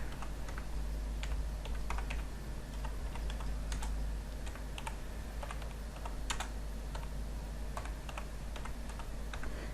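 A YouTube search is typed on a computer keyboard: quiet, uneven keystroke clicks run continuously over a low steady hum, with no talking.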